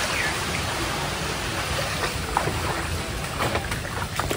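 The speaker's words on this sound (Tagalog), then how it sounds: "Oh, biglang hangin ng malakas." A strong, continuous rush of wind roars across the microphone by a river, loud and broadband, with faint rustling and brief ticks mixed in.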